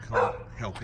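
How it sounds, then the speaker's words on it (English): A dog barks twice in quick succession, fairly close, while a person speaks briefly over it. "apologies if you hear any dogs barking in the background"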